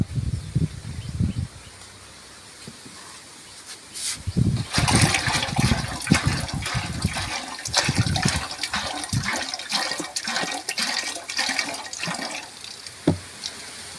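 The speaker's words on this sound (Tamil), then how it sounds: "பாக்கி இருந்த 1 லிட்டர் சாறையும் இப்போ அதில் ஊற்ற போகிறோம்" Mudakathan leaf juice pours into a pot for an herbal oil preparation, a loud, splashing gush of liquid that runs for several seconds with a few softer knocks before it.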